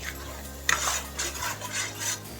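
A metal spoon scrapes and clinks against a pan while boti fry, a goat tripe dish finished with chopped coriander, is stirred, in a few close rhythmic strokes with a faint low hum underneath.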